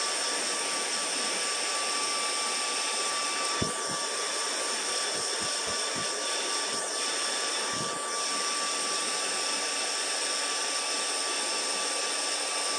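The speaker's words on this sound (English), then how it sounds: "you ain't got to go crazy with your heat set. All it does is basically dry that paint for you." Heat gun blowing steadily up close to dry airbrushed paint on a glide fishing lure, a constant loud whooshing roar with a few faint knocks underneath.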